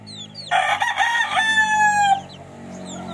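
A rooster of a game breed gives one loud, close crow lasting about a second and a half, clear above faint background bird chirps and quiet surroundings.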